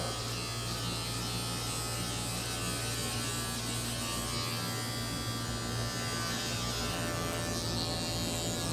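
Electric hair clipper fitted with a number 2 guard trimming a beard downward during a barbershop beard treatment, a steady close buzzing hum running unbroken throughout.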